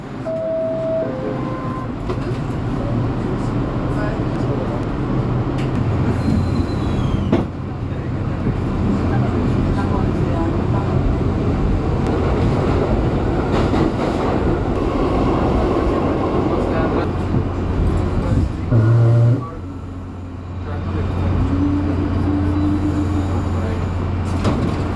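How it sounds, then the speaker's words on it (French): A New York subway train rumbles steadily along its ride to Times Square, a loud, continuous low roar with brief screeches and a short surge near the end, with voices speaking faintly underneath. "Ça y est, nous sommes sortis du métro, station 42, Times Square"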